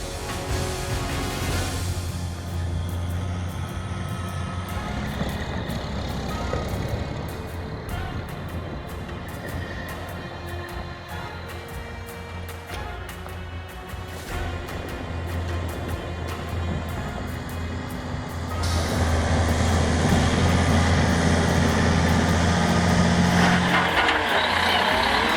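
A Freightliner logging truck drives through soft snow on a forest track, its engine a loud, steady low roar throughout that swells louder and harsher near the end, with no talk.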